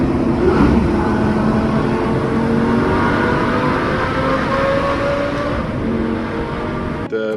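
A Lamborghini engine roars and revs on a tunnel run near Breckenridge, a loud, sustained drone whose pitch rises and falls before cutting out abruptly at the end.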